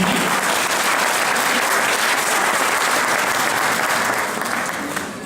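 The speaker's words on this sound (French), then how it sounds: "On applaudit Julie." A dense burst of audience applause, loud and sustained clapping from a crowd that tapers off slightly at the end.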